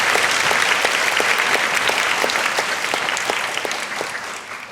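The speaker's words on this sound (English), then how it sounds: "Once again, let's clap your hands." An audience at an awards event bursts into steady applause, dense overlapping claps that carry on evenly and gradually taper off, fairly close, with no talking over them.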